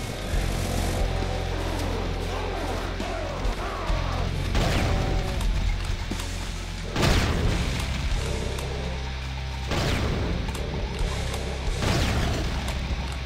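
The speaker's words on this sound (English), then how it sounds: "when you use that shotgun, it actually makes you go flying back a bit" Shotgun blasts in Brutal Doom, several heavy booming shots spaced a few seconds apart over a loud, dense game soundtrack.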